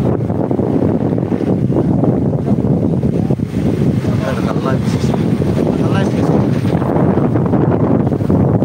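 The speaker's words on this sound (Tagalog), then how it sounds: "Malakas na hangin." Strong wind roaring at a boat on open water, with steady buffeting noise across the microphone and waves underneath, while someone talks over it throughout.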